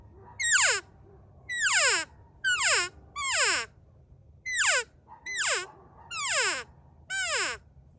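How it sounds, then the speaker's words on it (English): Cow elk calls from a hand-blown call, eight separate two-note mews that start high and roll down to a lower note, evenly spaced, fairly close and alone. "the standard cow elk sound is just a 2-note sound, kind of an ee-o that just rolls off"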